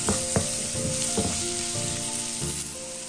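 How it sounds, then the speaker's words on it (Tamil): Onion sautéing in butter in a pan for a homemade burger, a steady close sizzle with a few clacks and scrapes of a spoon stirring, no voices. "அது அனியன் கொஞ்சம் வதங்கட்டும், பட்டரோடு சேரட்டும்."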